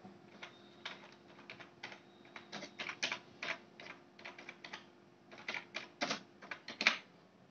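Rapid typing on a computer keyboard while entering payment remarks on a fee deposit form, with irregular bursts of crisp key clicks close by and no talking.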